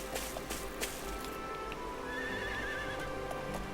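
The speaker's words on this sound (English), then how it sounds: "Oh my god, look at the horses!" Horses whinny and neigh over a dense, steady layer of game ambience, with hooves clip-clopping through it.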